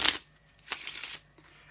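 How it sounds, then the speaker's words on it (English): A deck of playing cards is shuffled by hand, with a quick riffle and then a longer fluttering burst of cards, close and fairly quiet. "you've probably seen magicians shuffle cards like this"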